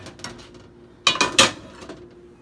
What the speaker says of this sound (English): we're going to take this tortilla and put it on a plate